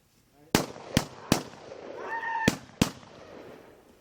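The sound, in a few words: gunshots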